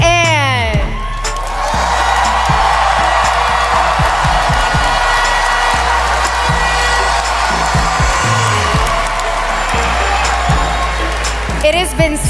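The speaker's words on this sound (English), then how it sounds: "Please give a round of applause for a true fan favorite" A large audience at a Miss Universe preliminary competition applauding, cheering and whooping loudly and continuously, with amplified speech and music running underneath.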